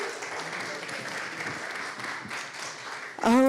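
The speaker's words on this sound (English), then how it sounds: "Big round of applause for Greg, everybody, who put this together" An audience in a room gives a round of applause at an event, steady crowd clapping mixed with murmuring voices, followed by a loud cheer or whoop near the end.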